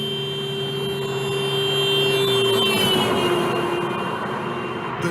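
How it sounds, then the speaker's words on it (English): A car horn blaring steadily as the vehicle passes, its tone holding and then sliding lower partway through as it goes by, loud over continuous road and engine noise. "Did you notice the difference in the pitch of the car horn?"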